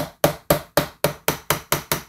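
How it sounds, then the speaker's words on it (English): A knife blade driven into a spaghetti squash by light hammer taps in a kitchen, giving eight evenly spaced, sharp knocks with quick decays, close and alone. "if you just keep hammering lightly, let it fall"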